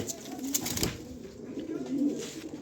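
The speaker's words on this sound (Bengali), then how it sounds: "এই দেখেন কবুতর জোড়া" Soft racing pigeon cooing, a few low murmuring coos close by from a pair, with faint background noise.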